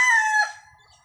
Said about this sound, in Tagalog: Ang pagtilaok ng manok, hindi po yan pagsasabi ng teritoryo.